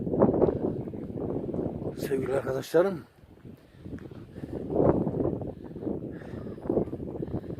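Wind rumbles against the microphone in low gusts while a person talks over it, with a brief squeak of a playground swing or chain in between.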